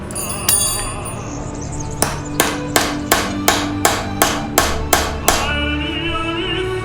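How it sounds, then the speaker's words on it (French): Nails are hammered into a wooden plank with a steady series of about ten bright, ringing metallic strikes at an even pace, preceded by a couple of lighter taps, loud and close, with no speech. "Marteau."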